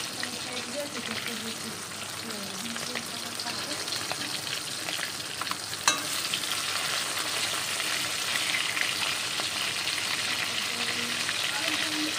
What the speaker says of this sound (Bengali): এখন কাতলা মাছ ভাজা চলছে।